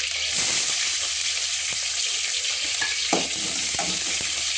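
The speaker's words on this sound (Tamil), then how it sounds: "வெங்காயம் போட்டு வதக்குறோம்." Onions and urad dal fry in hot oil for beans poriyal, a loud continuous close sizzle with occasional light stirring clicks against the pan and no talking.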